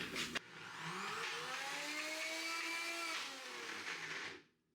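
A blender whirs continuously for a few seconds, mixing a thick date-sweetened candy filling with vanilla and a little plant-based milk, its motor pitch rising and settling steadily before cutting off at the end.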